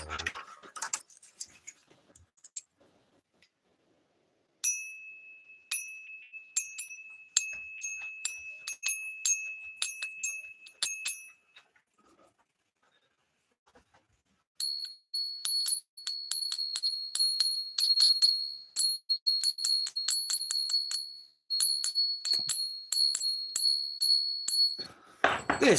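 A small silver bell rings in a series of bright, clear strikes, first in a quick run of dings, then after a pause in a longer, denser stretch of rapid jingling, fairly close and with no talk over it.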